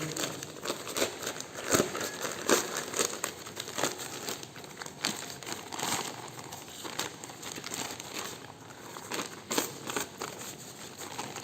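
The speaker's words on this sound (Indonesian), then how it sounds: "Ini polybagnya terlalu besar karena memang bekas untuk menanam bunga. Jadi ini bisa dilipat ya." Used plastic polybag from flower planting being folded down to a smaller size, giving close, irregular crinkling and rustling throughout with sharper crackles at intervals.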